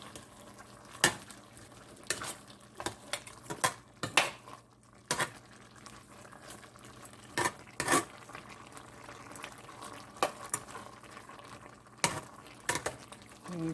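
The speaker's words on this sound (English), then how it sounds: "Give it a stir." A pot of pinto beans with smoked turkey leg is stirred, a spoon scraping and knocking against the pot in scattered, fairly sharp strikes over a soft bubbling simmer, with no talking.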